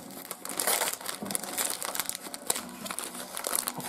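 Paper crinkles and crumples steadily as a present wrapped in blue gift paper is torn open and unwrapped, close and fairly busy throughout with brief louder rustles.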